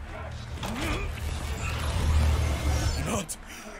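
Doors creak and groan in the animated series Murder Drones, a drawn-out mechanical creaking under a low rumble while people talk over it.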